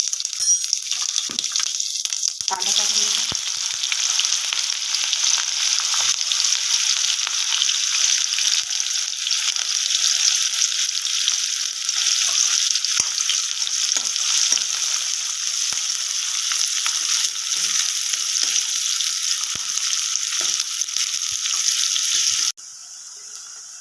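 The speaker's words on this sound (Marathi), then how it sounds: "झुणक्याला तेल तपलेलं आहे अर्धा चम्मच मी जिरं टाकून घेत आहे चिमटभर हिंग टाकून घेत आहे" Cumin seeds and a pinch of asafoetida sizzling in hot oil for zunka, a steady, loud hiss of frying that continues unbroken and then cuts off abruptly near the end.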